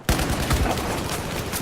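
Rapid gunfire in the Battlefield 4 video game, a close, loud burst of repeated shots from a weapon firing quickly, with no talking.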